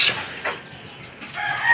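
Rooster and other fowl among pet birds at feeding time, giving a short crow and a few clucks close by, fairly loud, with no talking.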